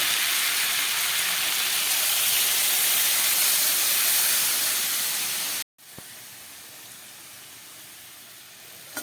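Water poured into hot fried spice paste with tomato and green chillies bursts into a loud, broad hissing sizzle that holds steady, then drops abruptly to a quieter simmering fizz.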